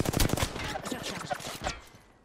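Rapid burst of gunfire in a ranked shooter video game, a dense volley of loud cracks at the start that thins into a few spaced shots and fades out.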